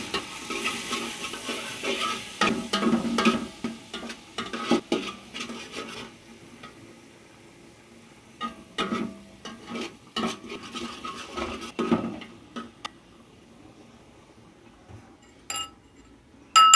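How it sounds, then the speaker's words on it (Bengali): Onion paste and spices stirred and fried in a pan for chicken pilaf: scraping strokes and light utensil clinks in irregular bursts, busier at first, then quieter stirring with sparse taps near the end. "আমি মশলা দিয়ে পেঁয়াজ বাটাই দিচ্ছি আর এনে"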